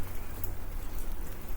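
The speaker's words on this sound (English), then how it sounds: "I can see we got kind of a rainy day going on." Steady rain falling outdoors around a tent area on a cold, wet day, a continuous dense patter with no talking.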